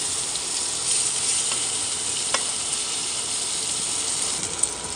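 Brinjal slices fry in a pan after being turned over, giving a steady, loud sizzle of hot oil that continues without a break, with faint pops and no talking.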